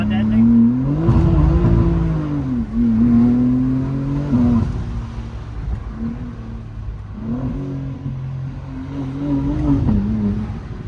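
Inside a BMW M4 CSL fitted with a Valvetronic Designs midpipe, stock downpipes and stock rear section, the engine drones loud and close, rising in pitch through revs, dipping on shifts, then climbing again.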